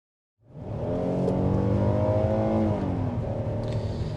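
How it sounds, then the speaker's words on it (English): A 2026 Hyundai Palisade with an 8-speed automatic and all-wheel drive accelerates while already moving, the engine note swelling from silence to a steady, rising drone heard from inside the cabin, with one shift partway through. "So there's a little bit of a running acceleration"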